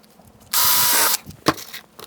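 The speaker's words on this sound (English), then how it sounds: "And we'll drill another hole here." A drill bores a hole in a wooden model railroad baseboard in one short, loud, close burst of about half a second, followed by a sharp tap.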